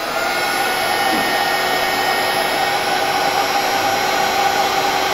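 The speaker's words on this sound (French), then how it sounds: "on va venir mettre un petit coup de sèche-cheveux" A hair dryer or heat gun blowing on heat-shrink tubing over soldered LED light-strip connections, a steady loud whooshing hum with a faint high whine, unbroken and alone.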